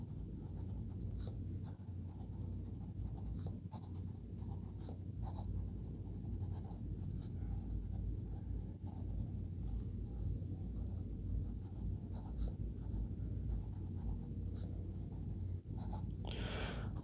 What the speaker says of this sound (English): This is really a buttery smooth nib with a fine point, and it writes beautifully.